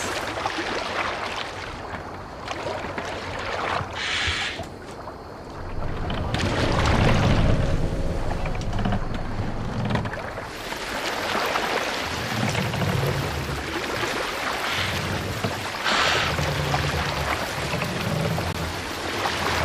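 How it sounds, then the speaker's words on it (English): A Viking longship rows across the open sea in Assassin's Creed Valhalla, with rushing water, waves and wind surging around the hull and rhythmic splashing swells, without speech. "Man your oars!"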